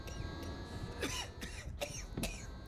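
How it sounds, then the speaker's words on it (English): A character in the video game Level Zero Extraction coughs in several harsh, spaced bursts, fairly close and clear against a quiet background. "Our dude is coughing up, making so much noise."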